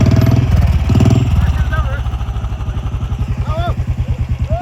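A motorcycle engine idles and chugs close by on a village road, its rhythmic low pulsing clearly audible throughout with a brief rev at the start, while people speak over it.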